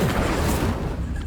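Incendio fire spell cast in Hogwarts Legacy, a dense, roaring burst of flame that fills the short moment at steady loudness, booming and crackling with no pause.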